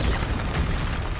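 A Confringo explosive spell bursting in Hogwarts Legacy, a dense booming blast filling the moment, loud and close with a rumbling low end and no talk over it.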